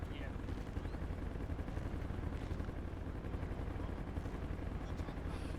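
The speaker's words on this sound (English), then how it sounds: "I don't think I've seen this much shooting in a while" Gunfire in a video game shootout, a continuous faint rattle of shots with a low rumbling bed throughout, steady and distant rather than punchy.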